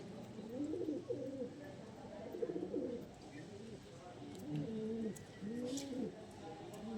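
Young home-bred pigeons coo softly and repeatedly, rolling throaty calls coming in bursts against a quiet room background.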